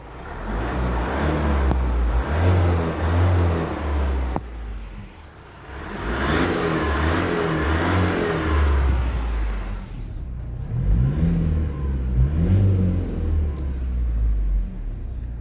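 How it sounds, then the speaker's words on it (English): A 2018 Ford Transit Custom 2.0 TD diesel van engine rumbles and revs in several rising and falling surges, loud and close, with a low throaty drone throughout. "Let's rev the engine."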